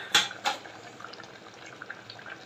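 Fried fish stirred into a sour curry with eggplant and tomato in a pot, two sharp utensil clinks on the pot followed by soft wet bubbling and small taps.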